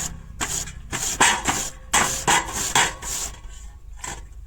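Radish rubbed against a hand grater: about a dozen rhythmic rasping strokes, close and moderately loud, with short pauses between them and no talking.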